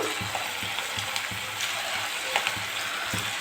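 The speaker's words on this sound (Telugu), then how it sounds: "మళ్ళీ కొద్దిసేపు అయితే ఇలానే డీప్ ఫ్రై చేసుకోవాలి" Puffed rice vadas deep fry in hot oil with a dense, steady bubbling sizzle and soft rhythmic clinks of a utensil, close and continuous with no talking.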